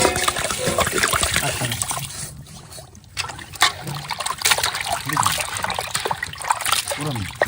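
Water trickling and splashing as a large fish is washed, uneven pouring and splatter close by, with people talking over it.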